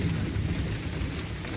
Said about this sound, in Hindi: यहाँ पर बारिश लग पड़ी अचानक।